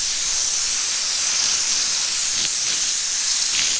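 Spray gun applying primer at low pressure gives a steady close airy hiss that runs without a break, with slight surges in the spray.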